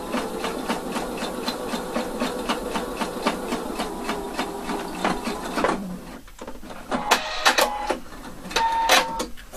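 A sewing machine stitches a jeans fly seam in a fast, even rhythmic run for about six seconds, then stops and gives a few short separate stitches near the end.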